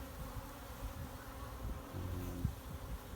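Honey bees buzz softly in a steady, faint drone, a low hum with one brief louder pass near the end, no voices.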